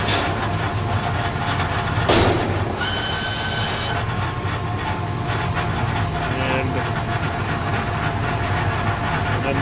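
A 45-year-old New Holland bale wagon under Arduino dial control creeps along with a loud, steady mechanical roar, a brief squealing whine breaking through early on over continuous broadband rumble.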